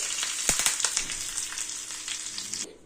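Dried red chillies and curry leaves hitting hot oil with cumin, mustard seeds and urad dal for a chutney tempering: a sharp crackling burst, then a steady hiss of sizzling, close and loud.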